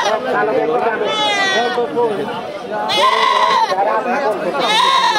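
Small local goats bleat repeatedly at a busy goat market, several overlapping calls rising and falling amid steady background chatter.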